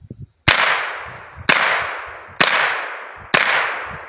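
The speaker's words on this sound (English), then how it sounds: "Now I'm gonna try with 22 long rifle and see if they'll move." Four sharp .22 Long Rifle shots, each a loud crack with a short fading tail, spaced about a second apart, fired at self-healing targets outdoors.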